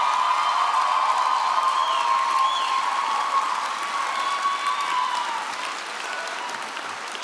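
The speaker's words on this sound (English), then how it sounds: "let's give our families and friends a round of applause" Steady, dense applause from a crowd of graduates honoring families and friends at a University of Minnesota achievement celebration, sustained at an even level throughout with faint cheering mixed in.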